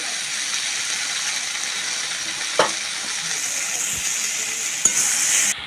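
Mixed vegetables frying with ginger paste in a pan, a steady sizzle broken by two sharp utensil knocks and occasional stirring scrapes, with no talking.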